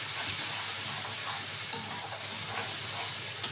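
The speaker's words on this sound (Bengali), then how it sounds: "নুন দিয়ে আমি ভালো করে এটাকে কষিয়ে নেব।" Turmeric, chili and cumin powder with salt are sautéed and stirred in oil for a lote fish curry, making a low, steady sizzle with a couple of brief scraping clicks.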